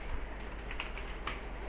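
Someone types on a computer keyboard, entering a line of Python code. A few faint, quick key clicks sit over a steady low background hum, with no voice.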